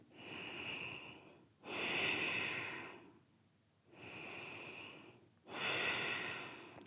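Deep breathing during yoga practice, two slow cycles of long audible inhales and exhales, close and steady with brief quiet gaps between them.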